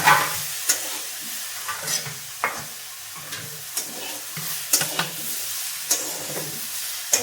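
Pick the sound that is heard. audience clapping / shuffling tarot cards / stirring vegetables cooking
stirring vegetables cooking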